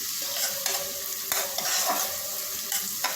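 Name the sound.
frying onions in a pan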